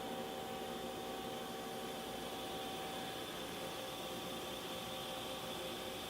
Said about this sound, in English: Main spindle is currently running at about 500 RPM.